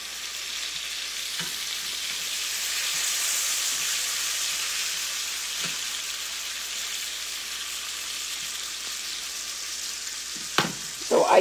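About 8 ounces of ground beef and two eggs sizzle steadily in a pan, a continuous close frying hiss with a few faint utensil taps and a brief clatter near the end.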